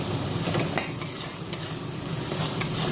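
Tel koi fish curry with salt and turmeric is stirred in a frying pan, giving a continuous close sizzle with soft scraping and a few sharper clinks of the spoon against the pan.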